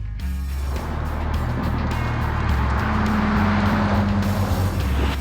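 Dodge Viper supercar with an 8-liter V10 engine, a deep continuous engine roar with a steady low rumble and rising pitch, loud and close, without speech.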